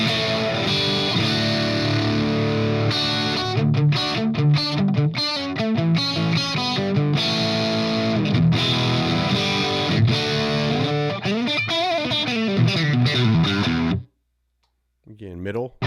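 Electric guitar played through the lead channel of a Grandmeister Deluxe 40 amp with split-coil pickups, giving a distorted strat-like tone; loud, sustained chords and riffs run steadily before cutting off to near silence at the end.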